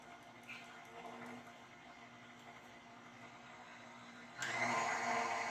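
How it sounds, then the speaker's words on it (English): An electric stand mixer whirs at low speed, beating macaron meringue for strawberry macarons in a busy kitchen, a steady faint motor drone that grows louder and brighter near the end. "So now, we're going to mix this on low"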